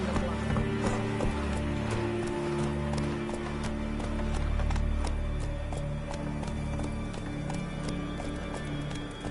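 A horse gallops in The Witcher 3 on PS5 with rapid, rhythmic hoof clip-clops and an occasional whinny over game ambience and music, held at a steady close distance.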